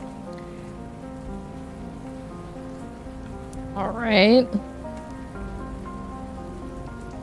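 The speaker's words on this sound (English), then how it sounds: "You can hear the rain is a bit, even if you close the door behind you, you can tell the rain is in here" Rain in the video game GhostMelt, heard from indoors behind a closed door as a soft, steady patter throughout, with a brief voice and a short sound effect in the middle.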